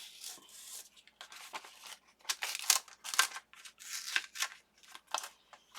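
A small hand tool cuts the center out of a piece while building a spring birdhouse, a series of close, crisp snipping and crunching bursts in an irregular rhythm with brief pauses between.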